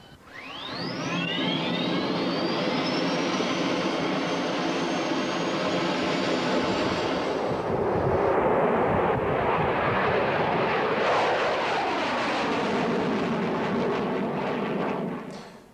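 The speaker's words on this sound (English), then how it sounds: "the F-16 is state-of-the-art" An F-16 fighter jet roars past, a loud sustained engine thunder with a rising whine early on, swelling into a broad rumbling blast and easing away near the end, with no voices.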